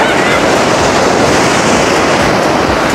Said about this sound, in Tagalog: Tapos parang lakas ng alon.